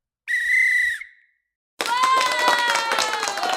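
A loud, shrill whistle rings out from an audience at a live online marketing event, followed after a short silence by a burst of lively clapping and cheering that carries on steadily.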